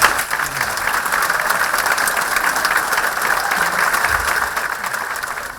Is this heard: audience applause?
yes